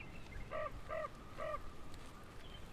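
Geese honk overhead from a flock appearing above treetops: three clear nasal calls about half a second apart, fairly faint over a low background rumble.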